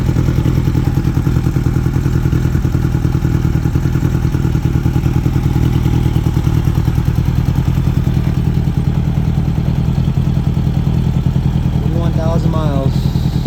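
A 1978 Honda Goldwing GL1000 motorcycle engine runs steadily at idle, a loud continuous clattering rumble throughout, with a brief voice near the end.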